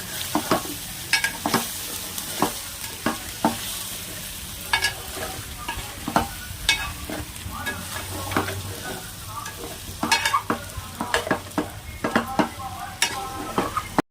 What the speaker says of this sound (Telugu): ధనియాల పౌడర్ వేసుకుని ఒక 2 నిమిషాలు అలా కారం మగ్గనివ్వాలండి